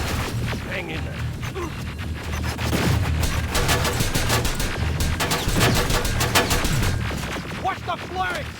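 Sustained gunfire from Terminator Resistance: rapid automatic volleys and heavy booming impacts run continuously and loudly throughout, with shouted voices in the fight.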